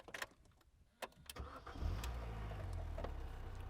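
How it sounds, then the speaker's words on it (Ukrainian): A 2006 Mini Cooper One R50 engine starts after a few clicks and knocks, catching quickly and settling into a steady, fairly quiet idle. "Автомобіль у нас заводиться з пів тичка, як кажуть."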